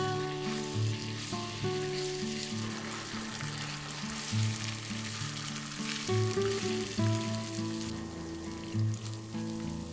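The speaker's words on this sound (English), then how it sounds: "We fry the onions till golden brown, adding garlic paste and other spices in between." Onions frying until golden with garlic paste and spices for a Bengali catfish curry, a dense continuous sizzle running the whole time beneath a background of steady music.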